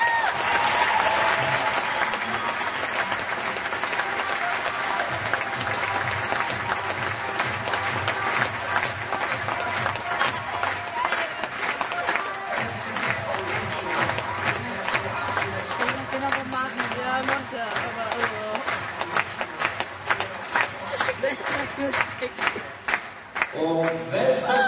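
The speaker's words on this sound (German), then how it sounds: "Er hat wirklich einen besonders dicken Applaus verdient." An audience at a sports camp closing ceremony applauds and cheers, with loud, sustained crowd clapping and occasional whoops over background music, the claps growing rhythmic and separated toward the end.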